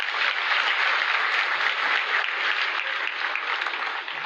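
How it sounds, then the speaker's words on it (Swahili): A large crowd at a school's 120th anniversary celebration applauds, dense and steady clapping filling the whole stretch without a break. "Wapigie makofi."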